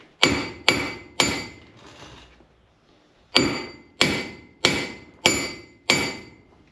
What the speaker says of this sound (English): I've got a very small hammer.